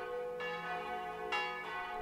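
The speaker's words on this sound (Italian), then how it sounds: "Non le senti le campane?" Church bells in Rome ring in a steady, resonant tone, with two fresh strikes swelling over the lingering hum.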